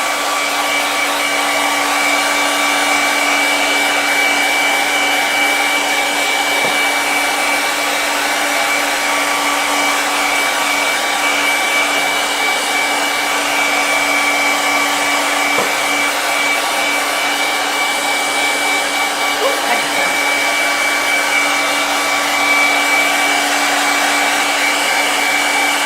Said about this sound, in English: Take the hairdryer to it.